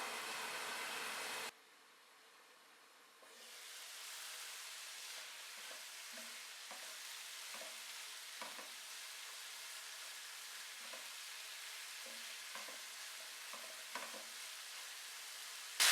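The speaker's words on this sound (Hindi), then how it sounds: "चिकन को कवर करेंगे और मीडियम टू लो आंच पे इसको 4 से 5 मिनट पकाएंगे।" Chicken cooks under a cover in a pan over medium to low heat, giving a continuous soft hiss and sizzle. A louder rush of noise at the start cuts off abruptly, and faint scrapes and taps follow.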